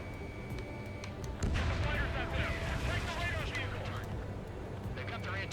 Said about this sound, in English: They've got their anti-air guns aimed right at us